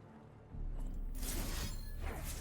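A Shatter card effect fires in the Legends of Runeterra video game, a sudden loud burst of breaking, crackling noise that jumps in after a quiet start and stays dense and bright to the end.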